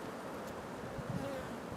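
Honey bees hum around an open hive in a beekeeping class, a soft steady buzzing that stays faint and even, with light wind noise underneath.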